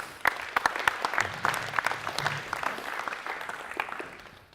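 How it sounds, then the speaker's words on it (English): A small audience at a university leadership talk breaks into applause, sharp separate claps at first that thicken into moderate, fairly close clapping and then gradually fade. "give them a round of applause"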